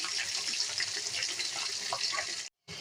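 Country chicken pieces and potatoes lightly frying in hot oil, a steady hissing sizzle close up that cuts out briefly near the end before resuming.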